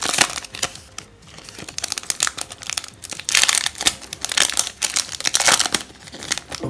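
A Panini trading card packet being torn open, with loud close crinkling and crumpling of foil wrapper in bursts throughout, with no voices.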